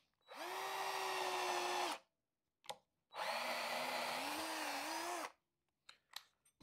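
A Parkside 20V cordless drill bores with a 10 mm bit in two loud bursts of high whining motor, each about two seconds, separated by a brief pause and followed by faint clicks.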